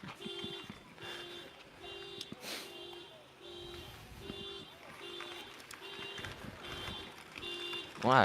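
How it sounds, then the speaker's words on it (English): A car alarm sounds outdoors, repeating regular beeping pulses at a moderate distance, fairly faint under street ambience, with a brief louder tone at the end. "I really wish they would turn off that alarm."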